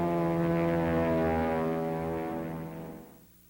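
An IL-2 Sturmovik ground attack aircraft drones loud and steady nearby, its deep harmonic engine hum holding for about three seconds before fading quickly away.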